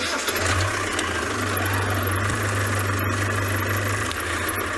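Safari vehicle engine running at a steady idle after starting, a low continuous rumble with faint knocking, heard up close without talk.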